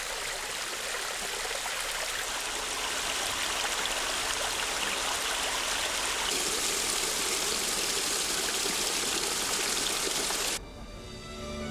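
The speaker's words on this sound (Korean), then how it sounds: "계곡을 타고 흐르는 물소리가 청아하고 시원하다." A mountain valley stream on Ganghwa Island, South Korea, running full after recent rain on the way up Manisan mountain, rushes and splashes in a steady, even flow with no voices over it.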